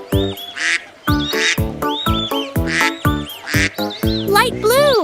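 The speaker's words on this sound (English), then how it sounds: "Mother duck said Quack, quack, quack, quack." A cartoon mother duck quacks in a children's colors song, with a run of loud, close quacking calls over sung music that ends in rising tones.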